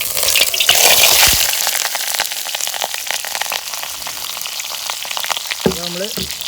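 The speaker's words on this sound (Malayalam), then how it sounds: "ഫിഷ് ചട്ടിക്ക് ഇട്ടിട്ടുണ്ട്." Avoli fish wrapped in banana leaf fries in a pan with a loud, continuous sizzle that is strongest at the start, and a short utensil clatter near the end.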